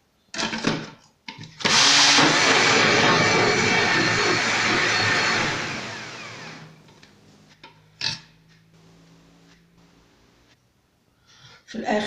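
Electric blender whirring through a batch of peach juice, a loud close roar lasting a few seconds before winding down, with brief clatters and short bursts of handling noise before and after.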